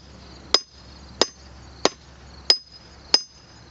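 A split maul strikes a steel wedge driven into a crack in wood: five sharp, ringing metallic blows at an even, unhurried pace, each decaying quickly, with no talk.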